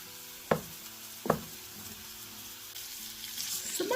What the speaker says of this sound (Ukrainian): Смажиться вже цибулька із морквою.